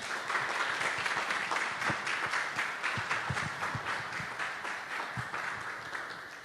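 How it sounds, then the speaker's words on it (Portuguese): A church congregation applauds at the close of a Portuguese-language sermon, with sustained, even clapping from many hands and a few sharper, closer claps standing out against the roomy wash. "Irmãos, aplauda o Senhor."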